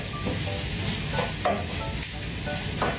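Sliced liver and onions sautéing in olive oil for sisig, a steady close sizzle with scraping stir strokes and soft utensil knocks throughout, no voices.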